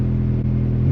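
Turbocharged Honda Civic engine held on a two-step anti-lag launch limiter, a steady loud low rumble with a rapid pulsing rhythm throughout, close and alone without talk.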